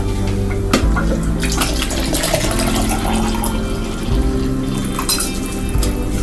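Cold water running steadily from a household tap at close range, a loud continuous rushing splash with small clunks near the start and end.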